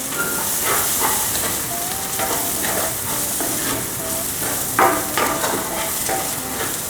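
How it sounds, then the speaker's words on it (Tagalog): Diced tomatoes being stirred in a hot pan for chicken gizzard and liver bopis, a steady hissing sizzle with repeated spatula scrapes and clacks, close and fairly loud, no talking. "Tutuloy lang natin guys yung paghalo hanggat sa lumambot na rin yung nilagay natin na kamatis."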